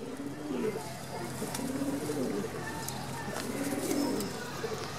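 Breeder pigeons coo at feeding time, with low, rolling, repeated calls from several birds close by, faint chirps, and light background noise throughout.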